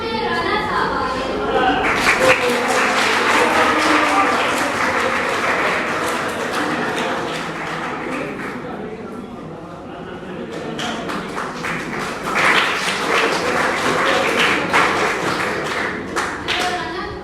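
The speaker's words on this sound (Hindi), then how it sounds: "आपकी भरपूर तालियों में राना साहब आ गए" Applause in a classroom presentation on modern cars, dense clapping sustained throughout with a brief dip near the middle before swelling again, close and fairly loud with scattered voices mixed in.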